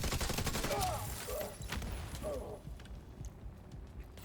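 Turret gunfire in a video game battle, a rapid rattling burst of shots that trails off while a person talks over it and an electronic alert voice sounds.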